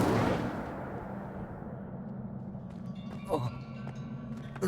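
An Incendio fire spell cast in Hogwarts Legacy, a loud burst of whooshing flame that decays into a low crackling roar, with brief sharp ringing and clinking tones near the end.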